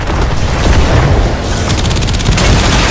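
Mortar volleys in the video game Warframe during a Profit Taker fight, a loud, dense barrage of booming blasts and rapid crackling fire that rolls on continuously with no pause.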